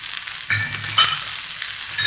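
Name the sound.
sautéing onions with Kashmiri chili for chutney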